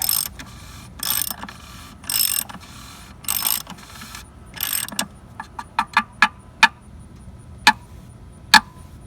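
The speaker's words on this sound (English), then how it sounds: "This is one of our leftover ratchets because we broke our good ratchet putting the lift kit on." A hand ratchet works under a Jeep JK during an oil change, first in several short bursts of rapid clicking, then in single sharp, close clicks spaced about a second apart.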